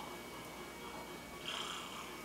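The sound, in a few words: cat purring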